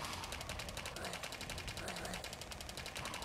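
Rapid SMG gunfire in a video game, a continuous fast rattle of shots at an even rhythm, dense and steady throughout, with no speech over it.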